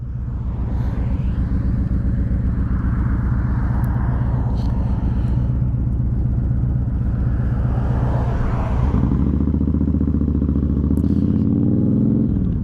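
A 2011 Honda VT1300X Fury motorcycle's V-twin engine runs steadily while riding, a loud, continuous low rumble that deepens and swells near the end as it lugs up through the gears.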